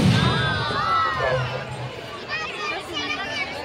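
Dense crowd babble at a Dussehra fair (mela) in Ranchi, a steady mix of overlapping voices and shouts from many people nearby, continuous throughout with a few louder calls rising above the hubbub.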